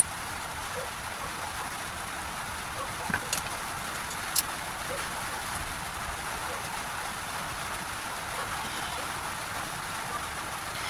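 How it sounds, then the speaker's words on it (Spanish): Rain drums on a zinc roof in a steady, faint, even hiss, broken by a couple of slightly sharper taps, with no voices. "Empezó a llover justo este momento. Tuvo que empezar a llover. Como el techo es de zinc, pues suena muy fuerte."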